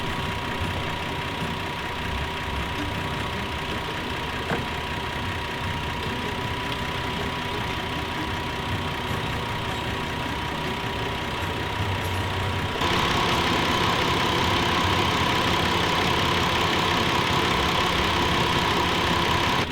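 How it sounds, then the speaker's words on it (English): Used car engine idling under the hood, a steady, even mechanical hum that runs continuously for twenty seconds and grows louder and brighter partway through, close up with no talking. "it's an indication that the engine is running smooth"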